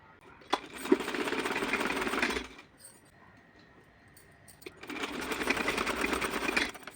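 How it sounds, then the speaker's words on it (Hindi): A domestic sewing machine runs two steady stitching bursts on a small summer dress, each about two seconds long, with a quiet pause between them. Sharp clicks and a faint hum sit under the stitching. "यहाँ से इसको यहाँ तक मैं इस पर सिलाई लगाऊंगी इस तरह से सीधे"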